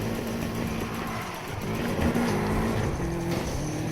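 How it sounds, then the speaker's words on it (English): A Nissan Skyline drifting in a video game produces a steady, droning engine note with a sustained tire squeal layered on top, holding a constant pitch that rises slightly toward the end. "Going for another big drift on this area."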